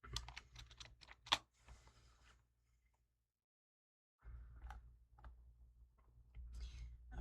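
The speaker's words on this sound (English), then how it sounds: "Shift Enter on the keyboard will create a duplicate entry, which I just used." Computer keyboard typing with Shift and Enter keys: a quick run of sharp, close clicks, a short silent pause, then a few more scattered keystrokes at low level.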